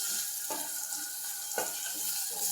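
Onion with a pinch of salt sautés in a pan for pav bhaji, a steady soft sizzle with two brief stirring scrapes, close and alone.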